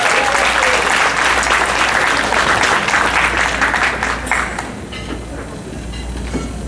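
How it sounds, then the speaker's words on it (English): A gala audience applauds a keynote speaker, dense and sustained clapping that fills the room and then tapers off toward the end. "So if you give a nice round of applause to our tonight's keynote speaker, Dr. Hernandez."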